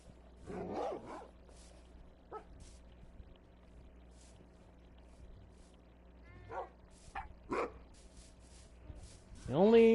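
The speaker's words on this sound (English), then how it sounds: "The only dog that I want to have moving around is Grape." Dogs in Minecraft Bedrock Edition let out several short, scattered barks and yips over a quiet game backdrop. A sharper burst of barking comes near the end.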